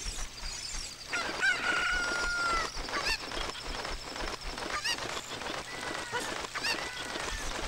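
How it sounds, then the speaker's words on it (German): A chicken in the video game The Legend of Zelda: Ocarina of Time gives repeated squawking clucks and honking calls over game music and effects, loud and close. "Jetzt nehmen wir uns das Hühnchen da."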